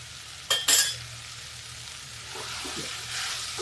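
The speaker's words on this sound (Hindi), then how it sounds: "देखिए मसाले भून गए हैं।" Spices frying in oil in the base of a pressure cooker, a soft steady sizzle with a couple of sharp metal clinks from stirring near the start, no talking.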